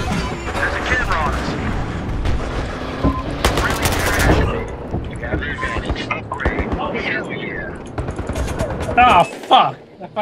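Pistol gunfire in Battlefield Hardline, with rapid bursts of shots and crashing impacts through most of the stretch while a player talks over the shooting.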